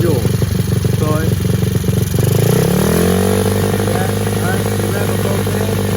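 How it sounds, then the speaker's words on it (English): A Honda four-stroke dirt bike engine runs loud and close during carburetor adjustment, idling roughly and then revving with a rising, sustained pitch; someone talks over the engine noise. "We're gonna either rev higher or rev lower, and then we're gonna adjust it right to where it needs to be."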